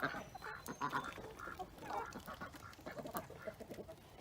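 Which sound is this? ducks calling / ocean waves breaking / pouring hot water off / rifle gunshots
ducks calling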